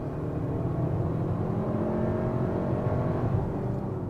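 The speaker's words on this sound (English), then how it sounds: "The engine is pretty responsive, not a lot of turbo lag." A 2024 Hyundai Santa Fe engine pulls steadily under acceleration while passing another car on the road, a sustained loud drone with slowly rising tones and road noise, heard from inside the cabin with no talking.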